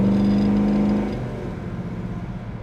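A 1968 Chevrolet El Camino with a 350 engine accelerates on the road, a strong steady engine drone that holds, then eases to a lower, rougher rumble as the pull fades.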